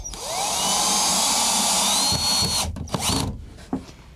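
A power drill drives a screw through a sleeve into a floorboard during flooring installation, a loud steady whirring run that winds down into a few clicks and knocks.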